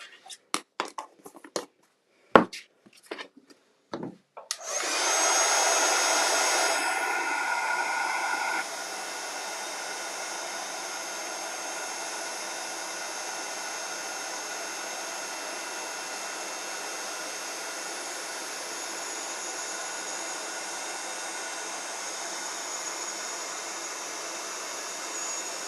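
A handheld heat tool blows hot air onto a card, starting with a few sharp clicks and taps, then a loud steady whoosh that drops to a quieter constant roar and runs for about twenty seconds with no talk.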